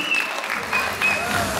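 Brief burst of clapping from wedding guests applauding the couple at a Turkish wedding ceremony, a close, busy patter of hands under a faint melodic tone and some background voices.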